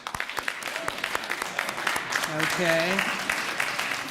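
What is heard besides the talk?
audience applause at induction ceremony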